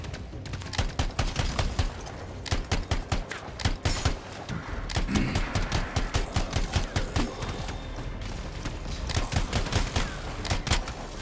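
Rifle fire in the Anthem video game comes in rapid bursts of sharp cracks, dense volleys with short gaps between them, loud and close with no talking.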